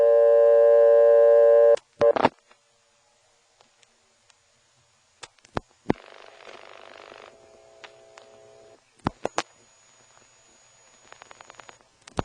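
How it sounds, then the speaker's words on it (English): GTE step-by-step telephone exchange: a steady tonal class of service signal sounds at the start and stops abruptly, followed by clicks, relay snaps and brief tone bursts on a quiet line. "you'll hear the class of service tone coming on."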